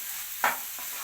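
Potatoes for masala dosa palya are stirred in a pan, heard as a low hiss with a single soft scrape from a spoon in the middle and a faint second touch shortly after.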